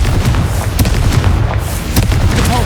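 Hogwarts Legacy combat with the Confringo blasting spell: loud, dense booming explosions and sharp bursts firing in quick succession, keeping a heavy rumbling roar throughout.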